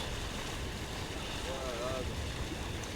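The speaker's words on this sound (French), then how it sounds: "on est dans les vagues" A boat rides through ocean waves on the way out to surf, with steady broadband rush of water and wind noise on the microphone throughout.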